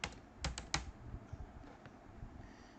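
A few quick keystrokes on a computer keyboard while code is typed, a short burst of crisp clicks up front and then sparse soft taps, close and fairly quiet.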